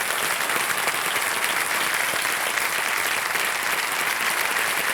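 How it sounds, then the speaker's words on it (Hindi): Studio audience of a televised Hindi quiz show applauding as a contestant takes the hot seat, dense sustained clapping at steady loudness from start to finish with no talk over it. "जोरदार तालियां बज जाए"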